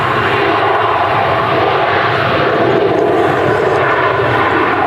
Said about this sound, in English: We've got a Jet2 A321 kicking the show off now.